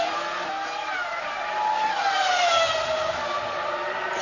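A Formula 1 car from the 2003 San Marino Grand Prix pulls away back onto the track after a pit stop, its high-pitched engine note rising and sweeping steadily, loud and fairly near.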